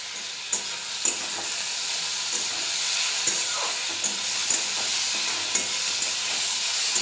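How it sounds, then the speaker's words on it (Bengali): Wild mushrooms frying with turmeric in a wok, giving a continuous bright sizzle with soft hissing steam and periodic clicks and scrapes from stirring, close and steady with no talking. "হলুদ দিয়ে ছাতুটা ভালো করে ভেজে নেব।"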